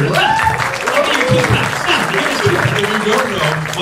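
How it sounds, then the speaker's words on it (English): A film premiere crowd applauds for a horror film producer, broad sustained clapping heard under someone speaking loudly over it into a microphone. "And really a big round of applause for the man of the hour, Adam Steigert."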